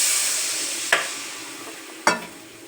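Frying masala for a fish curry hisses under a steady sizzle that slowly fades, with two sharp bursts as water hits the hot pan, no voices.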